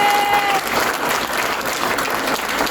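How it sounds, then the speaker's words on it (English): A crowd at an award ceremony, where the key to the region is presented, breaks into steady, loud applause that holds dense and even from start to finish, with a brief whistle near the opening. "Can you give them a round of applause for this historical moment?"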